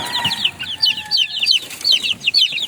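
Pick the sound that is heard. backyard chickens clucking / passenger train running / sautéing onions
backyard chickens clucking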